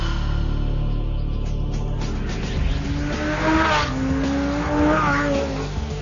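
Lamborghini Gallardo SE with a V10 engine at full throttle: a loud, close engine howl with rising and falling revs across a few quick pulls, with no talking.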